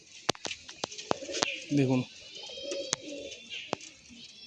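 A pair of pilanka-eyed pigeons kept for sale gives one brief throaty coo near the middle, among sharp clicks and rustling from close handling, with a short spoken word.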